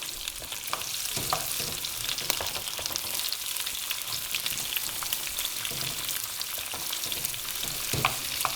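Vegetables and fennel sautéing gently in oil while being moved around the pan for a summer ratatouille, a steady close sizzle with intermittent scraping stir clicks, no voices.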